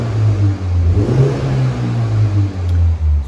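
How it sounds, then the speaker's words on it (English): A BMW G20 320i M Sport saloon engine with a Cobra exhaust idles and revs up, pitch rising and falling in a few swells, close and loud with a throaty hum. "just give you a little sound clip of the car"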